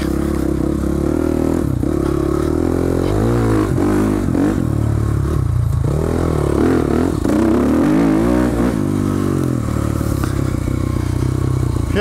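A Husqvarna 300cc dirt bike rides continuously, its engine droning and revving up and down with clattering from the chassis and wind noise, loud and close throughout.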